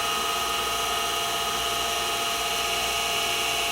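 A steady, loud machining whine from a milling machine cutting a deep channel in metal in a home shop, holding constant and dense throughout with no talk.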